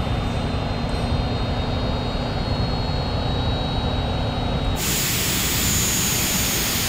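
A Fouga Magister jet in Microsoft Flight Simulator rolls out after landing, a steady broadband engine and air roar with a faint whine, shifting abruptly partway through.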